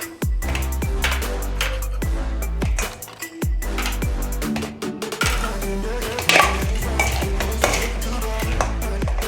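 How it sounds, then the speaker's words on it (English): Chicken wings tossed and mixed in seasoning in a bowl, producing a steady run of close, wet stirring and clattering sounds with repeated knocks against the bowl, loud and continuous, with no voices. "Just mix this up to get all those flavors together and start dropping the wings in it."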